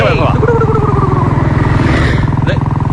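A motorcycle is ridden at speed with a loud, steady, pulsing engine drone close by, while a voice talks over it.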